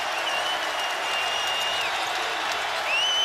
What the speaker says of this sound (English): Here comes the crowd